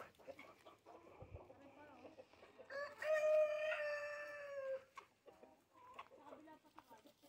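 Free-range chickens on a Philippine farm, with a rooster's loud, drawn-out crow rising over scattered clucks in the middle; people talk before and after.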